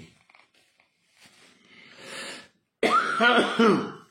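A smoker's hoarse throat-clearing rasp followed after a short pause by a couple of loud, close coughs.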